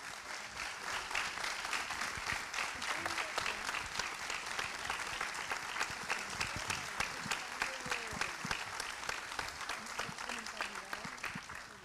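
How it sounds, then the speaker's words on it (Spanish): An audience at a talk on judicial independence gives the panel members a strong round of applause, dense steady clapping that holds for about twelve seconds at fairly even loudness, with faint voices underneath. "un fuerte aplauso a los miembros del panel"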